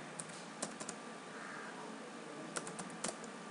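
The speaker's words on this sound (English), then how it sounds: "It asks me the registration number, which I will enter now through the keyboard" Keys on a computer keyboard are tapped in short, irregular bursts as a registration number is entered on an exam form website, with quiet clicks over a faint steady hum and no voices.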